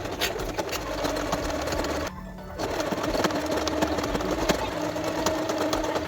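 A sewing machine stitching a waistband onto a traditional shweshwe skirt, running steadily with a dense mechanical whirr, pausing briefly once before resuming, close and alone.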